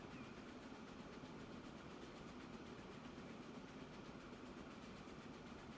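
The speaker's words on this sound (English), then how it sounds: "There's our iron ore train." An iron ore train in Transport Fever 2 rumbles along with a steady low engine drone and rhythmic rail clatter, faint and continuous with no talk.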